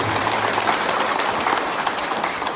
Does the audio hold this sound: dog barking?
no